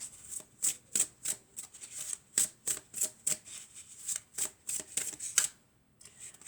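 Angel oracle cards are shuffled by hand in a quiet room, a steady series of crisp papery riffles and slaps, close and fairly soft, ending in a brief pause.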